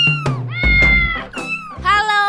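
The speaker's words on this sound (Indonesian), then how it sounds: "siapa lagi kalau bukan geng kucing bernama Avatar Squad" A cat meows loudly and close by, giving several drawn-out, wavering meows in quick succession with short gaps between them.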